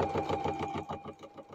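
A sewing machine stitches quilt binding, its needle thumping in a fast, even mechanical rhythm, close and steady with no talking.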